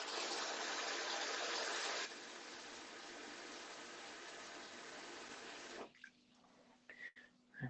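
Water from a tap gushes into a pot of potatoes in a home kitchen, a loud steady rush that drops in level partway through before cutting off, followed by faint handling clatter.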